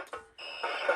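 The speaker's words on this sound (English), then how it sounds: "Shut the alarm off." An electronic alarm sounds in short, shrill tonal bursts that cut in and out, fairly close and clear, with no voices over it.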